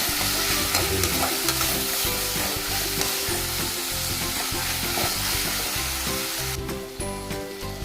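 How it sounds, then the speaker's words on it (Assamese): Meat frying on low gas in a pan, stirred steadily with a spoon, giving a continuous close sizzle broken by rhythmic scraping strokes throughout, fading slightly near the end. "মই গোটেইখিনি অলপ চিমত গেছটো চিমত থাকিলে মই ভাজি ল'ম"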